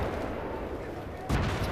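Battlefield 3 combat brings a dense, continuous rumble of gunfire and explosions, then one sharp, loud blast near the end.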